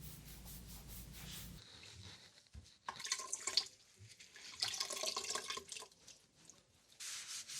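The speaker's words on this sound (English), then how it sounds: "After I let it sit for a little while, I rinse it off with water" Running water from a tap rinses a wooden tabletop, splashing and trickling in uneven bursts after a steady low hiss, moderately near with no talking.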